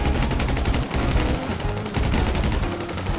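Police gunfire aimed at the player in GTA Online: dense, rapid bursts of shots rattle continuously and loudly through the whole stretch, with no talking over them.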